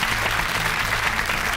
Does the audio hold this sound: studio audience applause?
yes